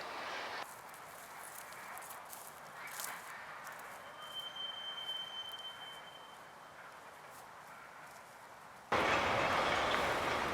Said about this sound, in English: See him moving the train back towards the train yard.